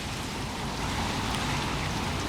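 Steady rain falls in northeast Texas, a dense, even hiss of drops on surfaces at a constant level with no other sounds.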